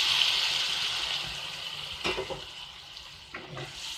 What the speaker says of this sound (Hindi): एक गिलास पानी डाल देते हैं।